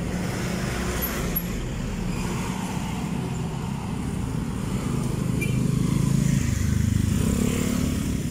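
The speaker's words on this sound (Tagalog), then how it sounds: "At maraming sasakyan ang mga nadating" Road traffic in Calamba, Laguna makes a continuous roadside wash of engine noise as cars and motorcycles pass, with a heavier vehicle rumbling louder near the end. No speech is heard.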